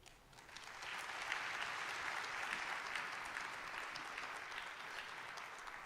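Steady applause from an audience after a keynote at an awards ceremony, a dense wash of clapping from many hands sustained evenly for several seconds, moderately distant.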